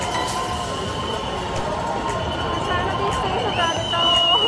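A dense, celebrating crowd fills Times Square in New York with a continuous hubbub of voices, lively shouts and whistle-like tones rising toward the end.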